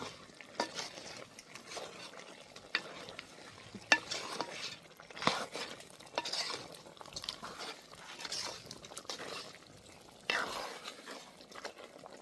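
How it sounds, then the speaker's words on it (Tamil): Spice powder is stirred into a pot of country chicken curry; soft, close scraping and stirring strokes repeat unevenly at a quiet level. "அதனால் தூள் போட்டு நல்லா மிக்ஸ் பண்ணிவிடுவோம்."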